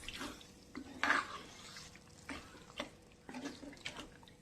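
Beef gravy with a little added water being stirred in a pot for a Kerala-style dish: soft intermittent scraping and liquid sloshing strokes, close and moderately quiet, with no voices.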